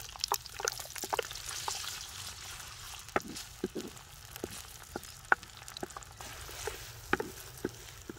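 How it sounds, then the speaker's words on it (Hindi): Sliced onions fry in cooking oil in a kadhai (wok), giving a faint, low sizzle broken by scattered sharp pops and crackles throughout. "प्याज को हल्का सुनहरा होने तक भून लेंगे"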